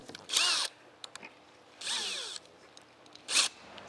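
Cordless power drill driving screws while assembling wooden beehive bottom boards, three loud whirring bursts with rising and falling pitch separated by short pauses and small clicks and knocks.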